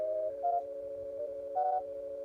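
Chords synthesized from an image play as steady electronic tones, shifting pitch twice in brief swells before settling back, clear and alone with no talk.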